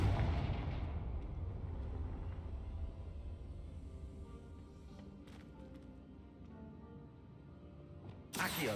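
A Confringo blasting spell explosion in the Hogwarts Legacy video game opens with a loud boom that decays into a long, fading rumble, with a few faint pops and a sharp new burst right at the end.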